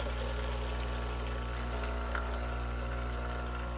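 Water flows steadily through a Wilfa coffee maker, a quiet continuous trickle over a low machine hum, close by and alone.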